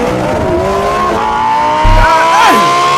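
A 2021 Lamborghini Huracan Evo V10 engine revs high with rising and falling pitch sweeps, loud and close, with a brief low rumble burst partway through.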